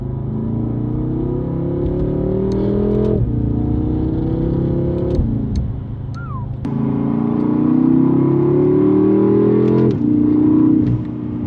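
A BMW F10 M5 V8 with a Valvetronic Designs exhaust and OEM downpipe revs hard in loud, rising sweeps that drop back twice, close up and dominant, with a faint brief squeal between pulls.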